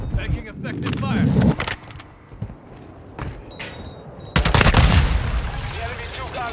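Automatic gunfire from the video game Modern Warfare 2 / Warzone 2, with loud rapid bursts at the start and again near the end, separated by quieter game ambience and radio-style announcer voices.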